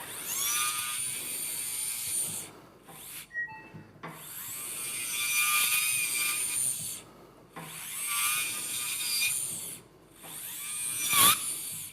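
A high-speed surgical endoscopic drill grinds into spinal bone during spinal canal decompression, running in long whining bursts separated by brief pauses, with a few faint tonal beeps in between.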